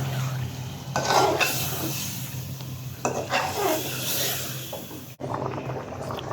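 Fish sizzles in a pan with potatoes while a utensil stirs and scrapes through it. Steady frying hiss runs throughout, with a brief clatter near the end.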